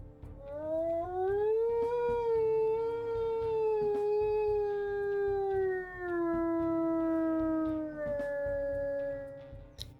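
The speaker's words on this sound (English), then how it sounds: "That's a bit of a deep one and pretty long howl too." A deep, long wolf howl from a video game rises and holds steady for nearly ten seconds, loud and alone, its pitch sliding gently downward toward the end.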